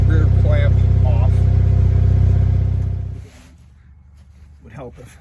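A Jeep Wrangler engine with its rear muffler removed runs with a loud, deep, steady drone for about three seconds, then cuts off abruptly, leaving quiet and a brief voice near the end.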